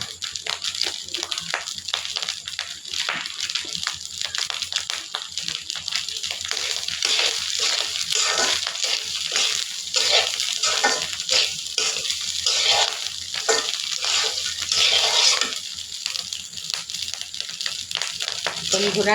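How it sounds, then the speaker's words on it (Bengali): Rice and lentils fry in hot oil with turmeric and coriander powder, giving a loud, continuous sizzle and rhythmic scraping from repeated stirring over nearly twenty seconds, while a voice talks over it. "তেলের উপরে চাল আর ডালটা আমরা এইভাবে ভেজে নিলাম"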